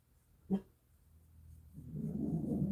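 A dog gives one sharp bark nearby, followed by a rising low rumble of movement or breathing.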